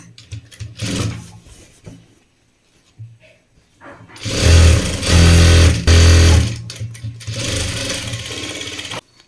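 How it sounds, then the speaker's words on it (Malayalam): A sewing machine stitches the folded one-inch hem of a uniform pant in short bursts. Brief loud runs alternate with pauses and handling noise, closing with a longer steady buzz. "ഈ പാൻറ്റിൻ്റെ അടിഭാഗം ആദ്യം നമ്മൾ മടക്കി തയ്ക്കുക"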